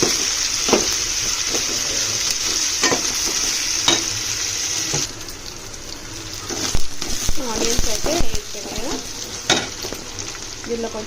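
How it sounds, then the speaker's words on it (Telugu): Onions frying in a pan, a loud continuous sizzle broken by scraping stirs, the hiss dropping and then flaring again as the pieces are turned, with someone talking over it. "ఆనియన్స్ వేసుకొని మగ్గనియాలి"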